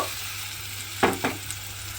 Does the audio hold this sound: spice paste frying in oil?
yes